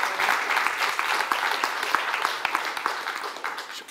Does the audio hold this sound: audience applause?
yes